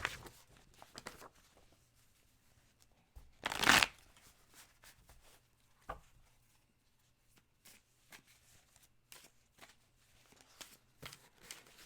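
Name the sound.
shuffling tarot cards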